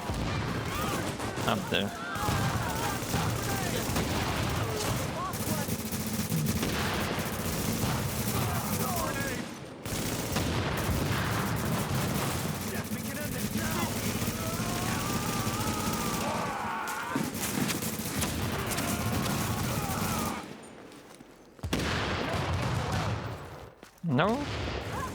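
Gunfire rattles through a video game battle in dense, continuous bursts and volleys, with a few brief gaps, while a voice speaks over the fighting.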